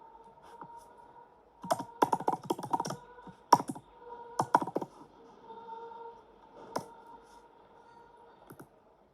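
Computer keyboard typed on while entering text into an Excel sheet, with quick clusters of crisp key clicks broken by pauses, close up over a faint steady hum, and no one speaking.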